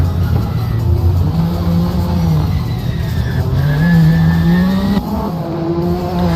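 Vintage race car in an IMSA endurance race, braking hard then accelerating in 4th gear downhill into Moss corner's double right-hander, engine droning loud and close with rising revs and a brief tire squeal.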